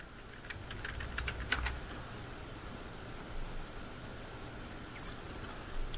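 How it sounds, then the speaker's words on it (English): Soft, quick clicking of keys on a computer keyboard while entering text into a store inventory program, heard close and alone in a quiet room, with a brief sharper cluster of taps. "I'm going to type in Foundations"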